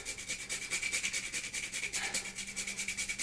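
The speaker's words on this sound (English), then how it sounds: "And I've got a nutmeg and then my little nutmeg grater. I'm going to grate in a generous amount of that." Whole nutmeg grated on a small hand grater for homemade Branston pickle, a steady run of quick, rhythmic rasping strokes, fairly close and even in loudness, with no talk over it.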